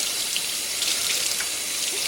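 Water runs steadily from a kitchen tap while a processed quail is rinsed, a continuous close hiss of splashing flow with no pauses.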